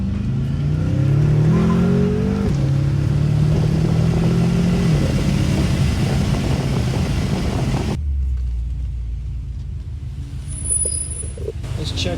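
BMW M5 engine rumbling and revving through gear changes while driving, loud and close, then easing to a quieter idle-like hum as the car slows, with a voice speaking at times.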